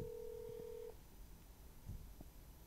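A single steady telephone dialing tone sounds for under a second during a call made on a live sports selection show, followed by faint clicks and low room noise.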